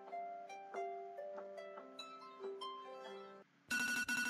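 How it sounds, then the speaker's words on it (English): An Android phone alarm ringtone plays a bright, bell-like melody of repeated tones for several seconds, then cuts to a louder, harsher burst of ringing near the end. "How Android users wake up to their alarms"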